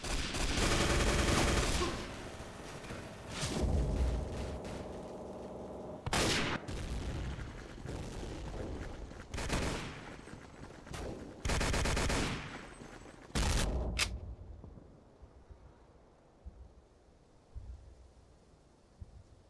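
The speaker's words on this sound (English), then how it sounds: "Whoa, someone's shooting at me." Gunfire in a video game, dense bursts of loud shots and automatic fire fading into quieter scattered pops.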